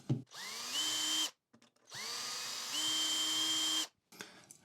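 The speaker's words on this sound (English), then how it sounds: "So let's pre-drill the holes." A power drill with a 2mm bit pre-drills hinge holes in two long bursts, each winding up to a steady high whine, with brief quiet gaps and small handling noises between them.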